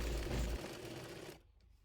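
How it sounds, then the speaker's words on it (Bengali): A sewing machine stitches a kameez sleeve with a loud, rapid, rattling run that drops off abruptly just after a second, leaving quiet. "মুহুরি অনুযায়ী আরমোল পর্যন্ত হাতাটি সেলাই করে নেব।"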